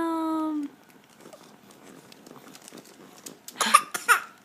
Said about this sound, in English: we like to gag ourselves by chewing on our hands, which causes a coughing fit